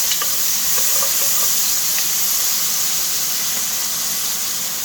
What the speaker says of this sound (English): it's going to let those onions cook so they get nice and brown